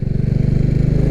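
Royal Enfield Classic 350 motorcycle from 2022 riding through a small town, its single-cylinder engine thumping in a steady, rapid low pulse with a loud, close, continuous rumble.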